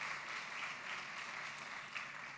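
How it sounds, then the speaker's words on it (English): Conference audience applauding, a dense, even patter of many hands clapping at a distance, fairly faint and sustained throughout with no voices over it. "please give a round of applause to these organizations who made this conference possible"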